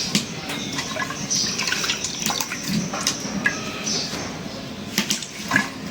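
Soybean leaves are rinsed by hand in water, giving close, irregular sloshing and splashing with drips and small rattling handling sounds throughout.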